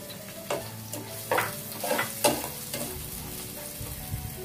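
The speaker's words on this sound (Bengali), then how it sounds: "পেঁয়াজগুলো দিয়ে ভালোভাবে নেড়ে চেয়ে দিব, বাদামি না হওয়া পর্যন্ত অপেক্ষা করব।" Chopped onions fry in a pan and get stirred, producing a steady close sizzle with several scraping spatula strokes and soft clinks, no talking.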